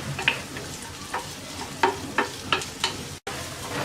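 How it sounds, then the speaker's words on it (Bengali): Onion fries lightly in half a tablespoon of oil, giving a soft continuous sizzle. A spatula stirs and scrapes the pan at intervals, making short, sharp taps. "পেঁয়াজটাকে হালকা ভেজে নেব।"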